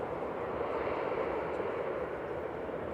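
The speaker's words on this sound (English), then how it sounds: "GEZOU there with its CFM56 engines and Iron Man style thrust reversers." An airliner powered by CFM56 engines roars steadily at Manchester Airport, a continuous, moderately loud broadband jet rush holding level for the whole stretch with no voices.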